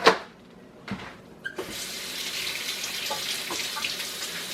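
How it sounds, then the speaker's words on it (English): Hands being washed under a running kitchen tap after cracking eggs: a few sharp knocks at the start, then a steady close stream of water splashing into the sink with light rubbing, no talking. "wash your hands, because the eggs may contain salmonella"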